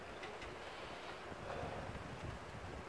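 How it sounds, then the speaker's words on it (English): Steady broadband wind rushing outdoors, a continuous airy roar with low rumbling gusts, no voices. "Windy"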